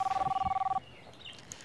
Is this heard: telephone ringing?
yes